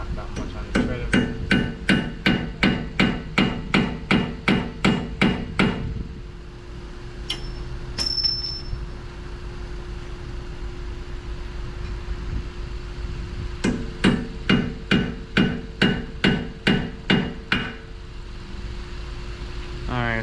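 A hammer strikes a center punch on a front suspension part of a Nissan Altima in a steady run of sharp metallic blows, a pause with a few small clinks, then another quick series of hits.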